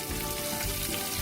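Green chilies hit hot oil with a loud, dense sizzle that crackles without a break through the whole short moment.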